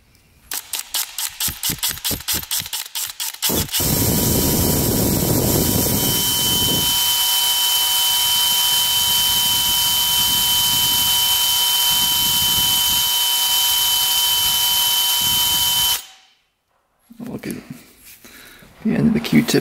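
A power drill runs at high speed for a long stretch, a loud steady whine, while cleaning grime off a part of a 1968 Harley Davidson motorcycle, stopping abruptly near the end before briefly restarting.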